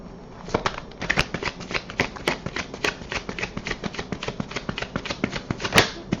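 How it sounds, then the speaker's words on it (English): A tarot card deck is shuffled up close, a steady, rapid run of crisp riffling flicks and card slaps that continues for several seconds without speech. "I'm going to give pile 2 another shuffle from the deck"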